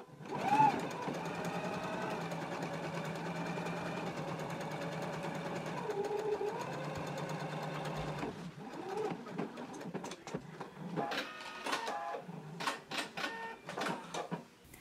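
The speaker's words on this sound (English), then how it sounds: "take it back to the machine and do a regular stitch right along our basting line" A home sewing machine runs a regular straight stitch along a basting line on a Simplicity pattern garment, a steady buzzing whir for about eight seconds, then stopping into lighter clicks and handling noises.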